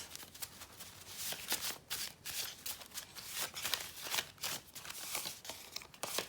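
Tarot cards being shuffled and drawn from a deck, with soft, continuous riffling and papery flicks close by, all at a quiet level.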